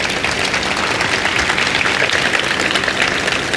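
Steady, dense applause from a large crowd at a university plaza and statue dedication ceremony fills the whole stretch at an even level, with no voices standing out.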